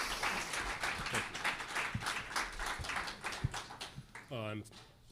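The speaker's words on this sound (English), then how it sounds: "a big applause for Jeffrey." Audience applause for a speaker at a tribunal event, a broad wash of clapping that runs steadily through, followed by a brief tonal sound near the end.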